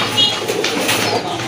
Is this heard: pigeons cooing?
yes